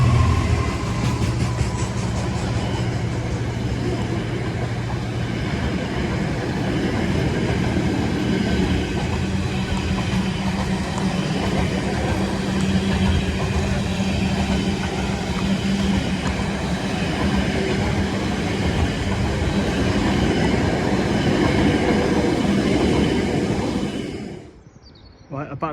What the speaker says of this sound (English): about to pass through now is going to be Avanti West Coast Pendolino running from Glasgow Central to London Euston